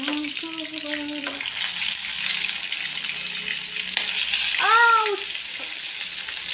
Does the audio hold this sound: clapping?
no